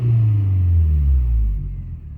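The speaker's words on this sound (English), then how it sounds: "Give it a little rev." Deep, throaty engine of a 2000 Toyota Solara with 168,000 miles and an exhaust leak, close by, revving then dropping back down into a low rumbling idle.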